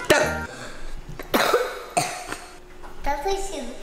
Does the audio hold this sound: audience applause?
no